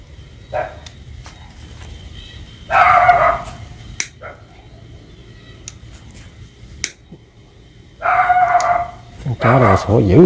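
Dogs bark in bursts outdoors at night, with a couple of clusters of loud barking, a sharp snap-like click, and a voice talking in between.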